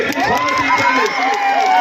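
A crowd at an outdoor house-site deed distribution event cheers and shouts together in a loud, continuous wash of voices, with only indistinct clapping beneath the cheering.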